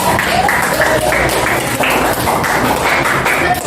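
Group of people clapping after a class presentation, a short burst of fairly close, uneven hand claps lasting a few seconds.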